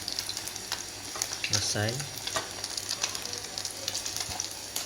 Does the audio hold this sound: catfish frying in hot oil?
yes